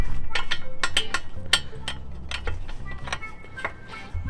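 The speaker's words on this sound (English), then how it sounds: "take a 19mm wrench and just break it free" A 19mm wrench working a castle nut loose on a ball joint gives a run of sharp metallic ticks and clicks at an uneven, ratchet-like pace, close by and fairly quiet, with no talking.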